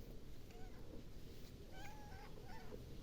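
A cat being cuddled meows several times in short, thin calls, close by, over a steady soft background noise. A voice is heard briefly nearby.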